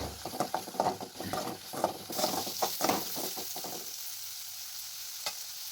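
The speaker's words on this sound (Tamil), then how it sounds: "நல்லா வெங்காயத்தை பொன்னிறமாக வதக்கிக்கங்க." Onions being sautéed until golden in a pan, a rhythmic series of stirring scrapes over a steady sizzle that settles to a quieter frying hiss, close and without talk.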